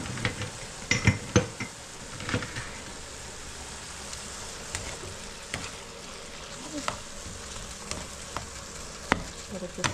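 Lentil soup with consommé and garlic powder is stirred in a pot, soft scraping and clinking taps scattered over a low simmering hiss, quiet and close.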